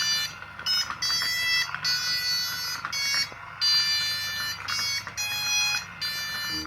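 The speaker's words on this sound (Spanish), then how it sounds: "ha programado ese zumbador para que toque la melodía de la canción" A shrill electronic buzzer on an RC car plays a simple programmed song melody note by note, bright and fairly close, with brief gaps between phrases and no voices.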